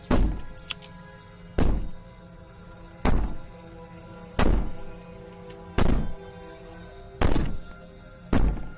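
In the video game Slay the Princess, heavy banging on a wall repeats seven times at a steady, slow rhythm. Each blow lands as a loud, booming thud with a short ringing decay, with no talking over it.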